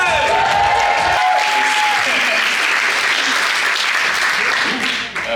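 A crowd applauds loudly and steadily throughout, dense clapping with some cheering mixed in, fading slightly at the very end.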